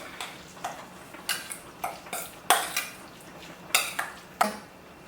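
Food being stirred in a pot, a series of about nine distinct clinks and scrapes of a utensil against the pot at an uneven rhythm, close and clear, with no voices.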